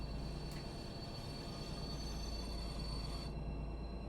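A BR 218 diesel locomotive in Train Sim World 4 braking to a halt: a steady low rail rumble with faint wheel and brake hiss, all quiet and unbroken, with no voices.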